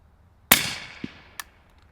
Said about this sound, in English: Let's drop it on the handy rifle and see what it does with a single shot